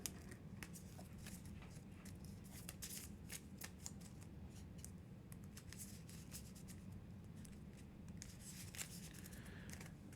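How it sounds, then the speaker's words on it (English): Soft, quick riffling and flicking of Marvel Champions playing cards being shuffled repeatedly, a faint papery patter of crisp snaps close by. "Shuffle them back into my deck."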